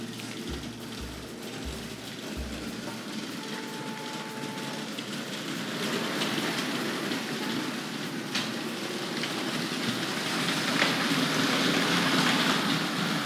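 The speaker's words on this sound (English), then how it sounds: "So let's run that backwards now." A Hornby model train runs steadily backwards along a track with a continuous whirring, rattling hiss that grows slightly louder partway through, with no voices.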